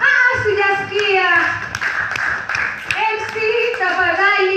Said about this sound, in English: Pigeni makofi tafadhali.